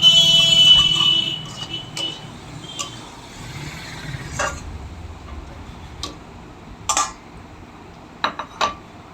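A spoon stirring potato curry (aloo dum) with added sugar in a pan, giving sparse, irregular metallic clinks and taps over a low background hum that fades after the first second.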